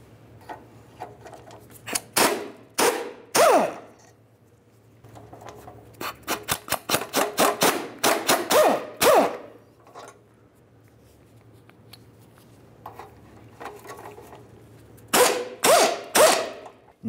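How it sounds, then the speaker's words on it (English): A ratchet clicks in several rapid bursts while three 14mm mounting nuts are loosened from an exhaust flex pipe on a Nissan, with quiet pauses between each run of clicks. "Let's remove all three of those mounting nuts."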